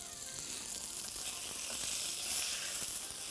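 Beef pieces coated in flour sear in a hot pot for beef stroganoff, giving a continuous close sizzle with fine crackling pops that swells slightly midway, with no voices.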